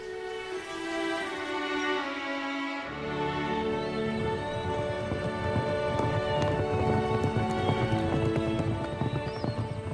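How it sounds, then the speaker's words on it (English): Horse hooves clip-clop steadily and speed into a gallop, a loud rhythmic beat with a whinny near the start, and no voices. "Emma's horse set off at a gallop"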